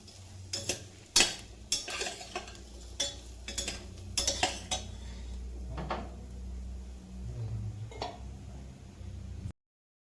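Brinjal masala is stirred in a pan over low heat, with a series of clacks and scrapes from a spoon against the metal, some sharp and bunched, over a faint background.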